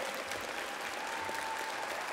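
A concert audience applauds after a Baldur's Gate 3 and Divinity: Original Sin 2 symphony performance with philharmonic orchestra and choir, producing a dense, sustained wash of hall clapping.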